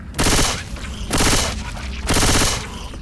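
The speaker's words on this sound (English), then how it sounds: "Spin him around and shoot him in the back." Automatic gunfire from Left 4 Dead 2 comes in three loud, sustained bursts of rapid shots, each lasting about half a second, separated by brief pauses with faint background game noise.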